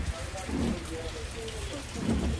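Rain falling at a seaside fishing spot on rocky shore, a steady broad patter with low rumbling wind noise, fairly close and continuous, no talk over it.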